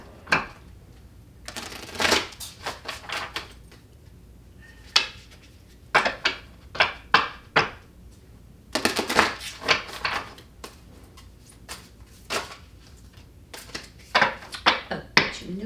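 Oracle cards for a tarot reading are shuffled and pulled in repeated bursts of crisp riffling and slapping, close and fairly quiet, separated by short pauses with faint background noise.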